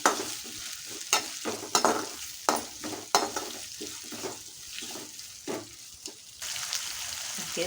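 Onion and eggplant pieces are stir-fried in a pan, with a spatula scraping in repeated rhythmic strokes over a soft, steady sizzle.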